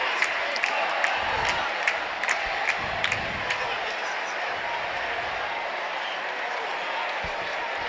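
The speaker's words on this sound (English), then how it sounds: "Crowd is much more intent on celebrating an ironclad victory in one of the other neighborhoods." Crowd noise at the Saracen Joust in Arezzo, a steady roar of people celebrating with scattered claps and cheers, continuous and fairly loud throughout.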